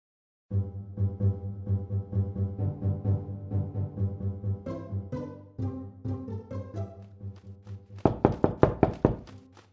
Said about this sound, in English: there was a knock at the front door